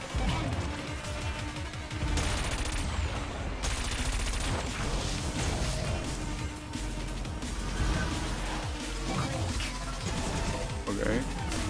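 Wipeout Omega Collection racing combat: the leech beam weapon fires amid a dense, loud barrage of crackling impacts and rapid bursts, layered over constant engine roar and a steady hum for most of the stretch.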